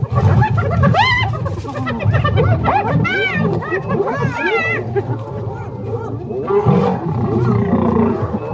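Lions clash with hyenas in the wild, a dense, loud mix of deep roars, snarls and high whooping hyena cries overlapping continuously and close.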